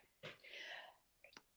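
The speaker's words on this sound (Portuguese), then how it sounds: "É só espirro, viu?" A single sharp sneeze from an adult during a live online conversation, a quick intake followed by a burst of breathy noise, then a brief sniff afterward; close and fairly soft, with no talk over it.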